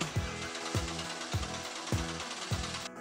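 Car engine cranking on the starter during a tailpipe pressure waveform test, a close, steady mechanical churn pulsing about twice per second for several seconds.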